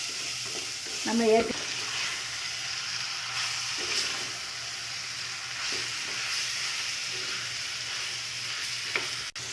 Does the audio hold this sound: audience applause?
no